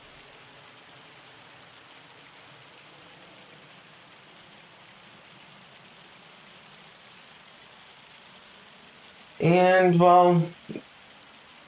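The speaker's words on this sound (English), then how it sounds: "Here comes the hail." Hail falls during a storm in the Farming Simulator 25 video game, a steady, even rush of pelting noise that runs throughout, with someone speaking briefly near the end.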